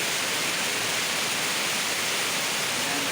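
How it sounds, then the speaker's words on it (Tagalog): Water cascading down a stair fountain in Silang, Cavite, in the rainy season: a loud, steady, broadband rushing roar, continuous and close, with no talking. "Stair Fountain"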